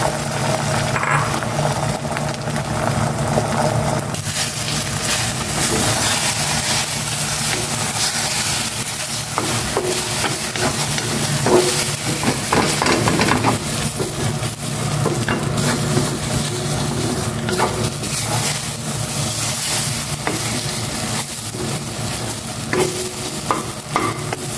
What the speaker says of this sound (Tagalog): Ginigisa ko na itong bawang. Butter ang ko.